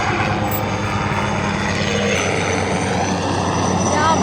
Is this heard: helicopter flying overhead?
yes